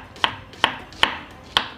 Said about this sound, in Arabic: بصوا هنقطع البصل ازاي